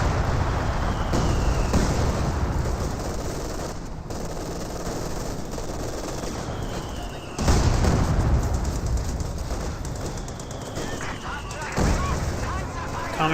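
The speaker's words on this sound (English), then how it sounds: "Another artillery barrage." Artillery barrage shells explode in Company of Heroes 2, with heavy booms at intervals over a constant roar of battle and machine-gun chatter, while a commentator talks throughout.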